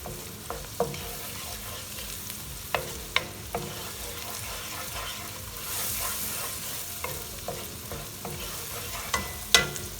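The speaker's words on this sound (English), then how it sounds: "to this we're going to add some peppers, colored peppers. They're not spicy at all. Saute it a little bit." Colored sweet peppers sautéing in a pan for seafood paella give a steady sizzle and fry, broken by sharp clicks and scrapes of a utensil stirring them, with no voices.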